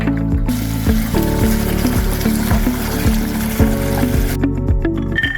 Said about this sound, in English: Rinse off your nuts thoroughly with some fresh water.